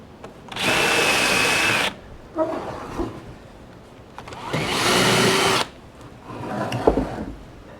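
Cordless drill driving 75mm batten screws into a wooden sprinkler base, two loud, close whirring runs of about a second each with handling knocks between them.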